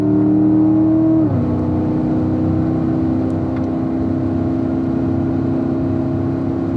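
A car engine revs steadily and loudly while accelerating down a straightaway in a driving lesson, its pitch dropping briefly after a second as the gear shifts, then holding a strong continuous drone.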